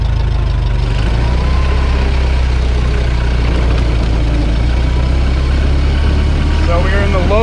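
A 1912 Ford Model T Speedster pulls away in low gear, its engine a loud, steady, close-up drone that holds throughout, with a few brief higher squeals near the end.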